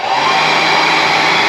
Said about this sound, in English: So basically then I got the hairdryer, and then just puff away